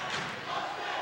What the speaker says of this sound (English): The Mustangs crowd and team are getting fired up.